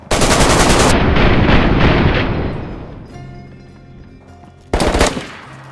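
Rapid automatic gunfire in the game DayZ, a loud dense burst for about three seconds that fades out, then a second sharp short burst near the end; no talking.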